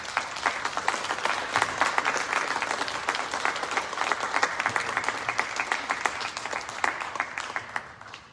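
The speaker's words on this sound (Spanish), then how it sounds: "Un fuerte aplauso" Audience applauding the author of the book "Migrantes zacatecanos, crónicas del alma" at a book presentation, steady dense clapping from a crowd that holds for several seconds, then fades out.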